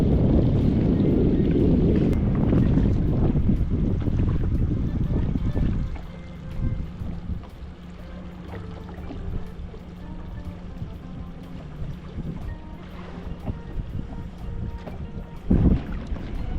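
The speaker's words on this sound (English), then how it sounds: "Like I said, there's a lot of wind" Strong wind buffeting a 2022 Alumacraft 185 Competitor fishing boat out on the water, a heavy roaring rumble for the first few seconds that eases into a lighter steady hum with occasional gusts and knocks.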